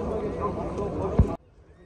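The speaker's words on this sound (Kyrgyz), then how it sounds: "Кыйкырып аткан кулунду көрсөтүп өтөйүн сиздерге." A foal neighs at a horse market in Jalal-Abad amid crowd noise and a hard thump, and the sound cuts off abruptly partway through.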